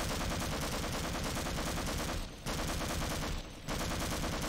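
Automatic turret gunfire from the video game Half-Life: Source, a loud, dense stream of rapid shots that stops twice briefly before resuming.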